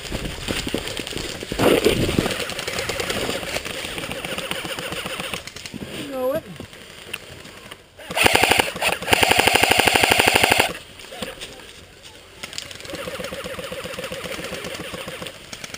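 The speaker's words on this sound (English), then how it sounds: "Give me some cover fire" Automatic gunfire from a Cold War combat video game, with a sustained loud burst of rapid shots and scattered earlier pops, mixed with game sounds and voices.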